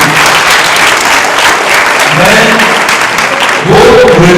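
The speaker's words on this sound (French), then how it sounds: "Applaudissez le pour l'encourager." Studio audience applause on a French spelling contest show, dense and loud clapping throughout, with a voice beginning to talk near the end.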